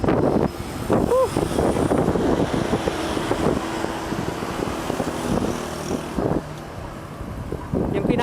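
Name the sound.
headwind blowing while cycling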